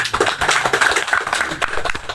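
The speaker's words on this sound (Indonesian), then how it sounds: "Tepuk tangan buat Tuhan Yesus" A congregation at a Sunday service in Indonesia claps hands in praise, a brief burst of fairly close, somewhat rhythmic clapping with a faint background murmur.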